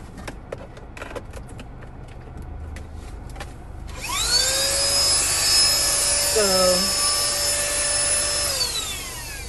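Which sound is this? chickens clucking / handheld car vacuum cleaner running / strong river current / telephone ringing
handheld car vacuum cleaner running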